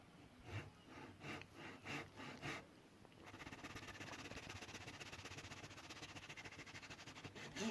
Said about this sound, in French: avec la scie à dos,